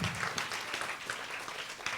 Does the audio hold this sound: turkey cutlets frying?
no